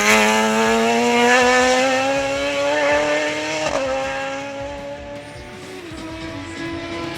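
Radical race car at the Barbados Festival of Speed on a wet track, a loud, high engine whine holding and then slowly dropping in pitch as the car passes, with a brief shift near the end.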